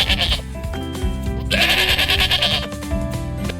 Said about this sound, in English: Sheep say ba ba.